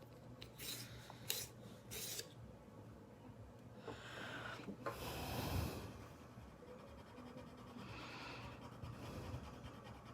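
A pencil is sharpened by hand in a faint, rasping grind that rises briefly, then continues as soft scraping in a quiet room during a casual drawing session.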